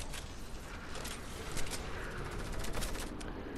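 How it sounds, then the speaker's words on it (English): Heavy assault rifle fire in Fortnite Battle Royale: a dense, steady stream of gunshots, moderately loud against a busy background, with no talking. "I found the heavy AR! Oh my god. It shoots slow."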